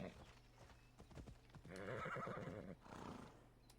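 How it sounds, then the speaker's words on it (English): A horse in Assassin's Creed Odyssey clip-clops along a path in quick, close hoofbeats. A brief whinny breaks in partway through, and there is no talk. "I can call my horse and have my horse follow the path until we get there"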